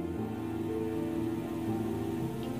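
As the rain eases, a steady patter of drops falls on wet leaves in a forest, a soft, even wash of dripping with no voices.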